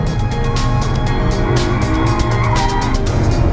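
A 2011 Ford Mustang with a 6-speed manual drives hard, its engine roaring loudly and continuously with rising and falling revs as gears change, up close with heavy road noise and no talking.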